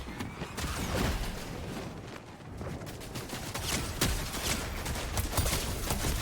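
Video game gunfire in a no-build duo match, dense bursts of rapid shots and sharp cracks crackling continuously, fairly loud with fluttering fire and a few heavier reports.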